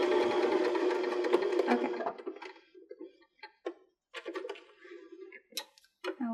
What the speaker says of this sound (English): continue where we left off and backstitch all the way to the end